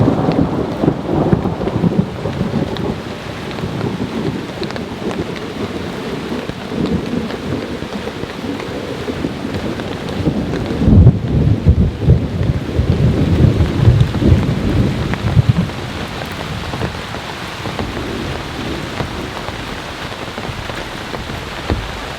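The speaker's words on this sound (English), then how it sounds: "As you can hear, it's still storming, still raining." A heavy thunderstorm pours down on a campsite, with steady dense rain drumming throughout and a deep roll of thunder swelling in the middle before fading back to a constant downpour.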